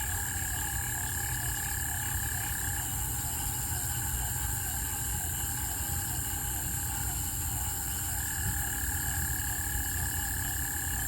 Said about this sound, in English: That's a lot of frogs.